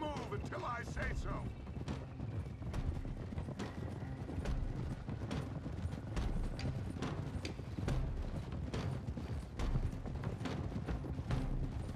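Many horses' hooves clip-clop together in the video game Red Dead Redemption 2, a busy, steady trampling of a riding group mixed with game sound and talk.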